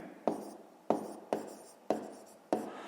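A hand writes out math working, likely pen or chalk on a surface, giving five evenly spaced crisp taps and short strokes, close and faint, with no talk during them.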